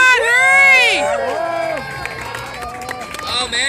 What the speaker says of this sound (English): Give it up, cheer it up for them